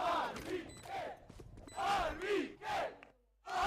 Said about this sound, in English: And you can see the chants too in the crowd.